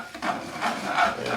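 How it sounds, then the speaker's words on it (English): Butter being stirred into a bourbon glaze in a pan, a soft, close scraping and rubbing of a utensil against the pan in a few uneven strokes, no talking. "we'll stir that piece of butter right into it."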